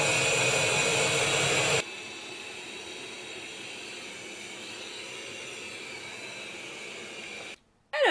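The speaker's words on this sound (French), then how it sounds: "Ça c'est le robot aspirateur qui se met en route" A loud, steady broadband whir starts abruptly, then drops to a lower sustained motor hum, like a robot vacuum cleaner powering up, with no voices.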